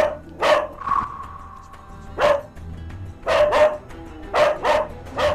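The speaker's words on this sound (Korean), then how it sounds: "보호자가 눈을 마주치지 않자 더욱 맹렬히 짖는 희망이" An 11-year-old dog barks fiercely in sharp, loud bursts, some doubled, spaced irregularly with brief pauses and a drawn-out whine between them, close by and with no talk.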